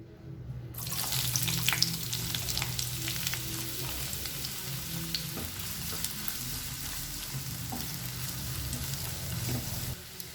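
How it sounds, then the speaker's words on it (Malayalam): Onion drops into hot coconut oil and sizzles at once, a steady, dense frying hiss that holds for several seconds alongside faint scraping and stirring, close by with no talking. "അപ്പം നമ്മുടെ എണ്ണ ചൂടായിട്ടുണ്ട്. ഇതിലേക്ക് സവാള ചേർത്ത് കൊടുക്കാം."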